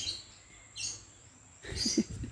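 Small birds give a few faint, high chirps in two short bursts, the second slightly fuller, set against a quiet, low background.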